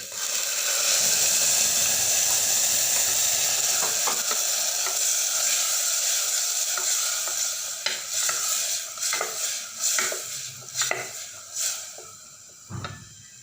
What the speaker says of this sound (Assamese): গোটেইখিনি গল্ডেন ব্ৰাউন হোৱালৈকে ভাজি লৈ ইয়াতে পিঁয়াজ আৰু বিলাহীৰ পেষ্টখিনি